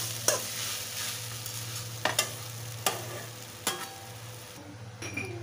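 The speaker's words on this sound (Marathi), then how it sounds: "आणि आता हे परत परतून घ्यायचंय।" Grated sweet potato stir-fried in a pan, soft continuous sizzling broken by several sharp scraping stirs of a spatula against the pan, close and without talk.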